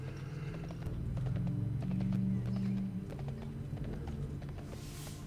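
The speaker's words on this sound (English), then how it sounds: "Let me put on my horse." Horse mount hoofbeats in the World of Warcraft video game, a steady clip-clop of hooves running through the whole stretch at moderate loudness over a low droning game soundtrack, with a brief whinny-like tone midway.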